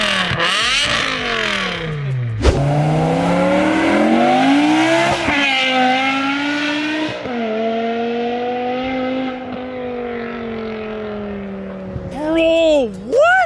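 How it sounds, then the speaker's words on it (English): An inexpensive BMW with an FI exhaust fires up and is revved hard, the loud, close engine note climbing and dropping through repeated rasping sweeps, ending in a few sharp blips. "You combine that with the FI exhaust that this car is running, and bro, it sounds mental."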